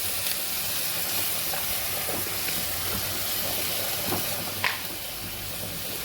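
Salt and turmeric with spices sizzle steadily in a hot pan, a loud continuous frying hiss close by with a few faint clicks, and no talking.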